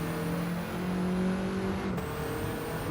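A Porsche race car engine in Gran Turismo 7 drones steadily at high revs, holding a sustained tonal whine with a brief dip like a gear change near the end, loud and close with no talk.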